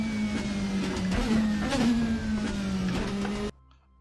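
Race car engine droning at a steady pitch in the RaceRoom racing game, a continuous loud hum with slight rises and falls before cutting out abruptly near the end.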